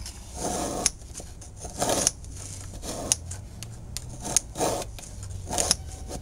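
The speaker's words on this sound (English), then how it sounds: "take a graphite shaft scraper that I invented a few years ago, put it over a screw here, scrape off the tape" A hand-held graphite shaft scraper strips tape from a golf club shaft held in a vise, giving several short, close scraping strokes with small gaps between them.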